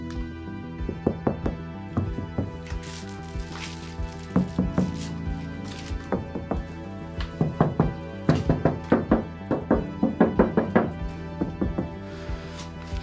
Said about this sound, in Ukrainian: чуєте, як крила звенять